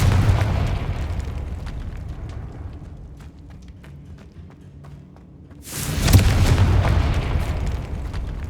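A loud fiery blast from the Confringo spell in Hogwarts Legacy bursts in after a quieter rumbling stretch, booming and then sustaining a roaring tail.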